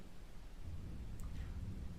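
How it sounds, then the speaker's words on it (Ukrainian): A recording of rain and thunder played during a children's music lesson, a low rumbling thunder under a steady hiss of rainfall, fairly faint and brief. "давайте ми з вами пригадаємо шум дощу"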